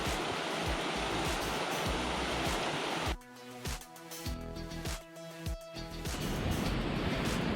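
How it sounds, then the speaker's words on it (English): A stream flows beside a hiking trail, a steady broadband rush of water close by, with brief thumping footsteps and a short quieter stretch midway before the rush returns. "It's just a stream next to us."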